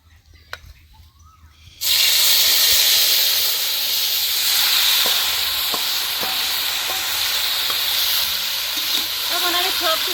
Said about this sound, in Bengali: এইদিকে তেলটা গরম হয়েছে। এখন দিব জিরা আর কালি জিরা